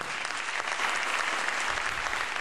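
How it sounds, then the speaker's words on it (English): A crowd claps steadily in a dense, even burst of applause lasting a couple of seconds. "A round of applause for all of them."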